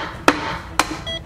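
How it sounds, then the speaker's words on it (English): A hammer strikes three times at even intervals, each blow a sharp, loud, close whack against a hard surface. "Okay, try the hammer."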